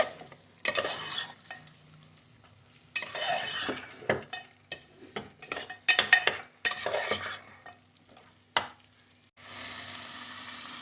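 Mutton being browned with ginger-garlic paste for aloo gosht shorba, heard as bursts of sizzling frying broken by repeated spoon scrapes and stirring strokes, loud and close with short quiet gaps between.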